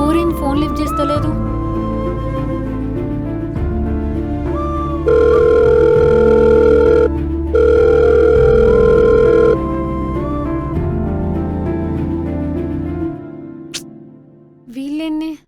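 A phone call rings out unanswered, a repeating electronic ringback tone in even bursts over a low musical background.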